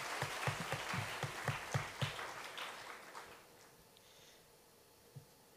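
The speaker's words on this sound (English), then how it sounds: "So give another round of applause" Applause at a university engineering faculty inauguration ceremony, heard as a quiet, thin patter of a modest number of hands with a few distinct claps, tapering off into near silence.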